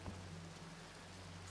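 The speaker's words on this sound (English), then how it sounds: "Well, it's a rainy day. Let's get out of the rain." Rain falling on a rainy day in a roleplay video game, a soft, steady wash of fine patter with a low hum beneath and a brief knock at the start.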